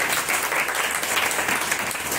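Steady, dense applause from the audience at a church service meeting fills the whole moment, even and sustained without pauses.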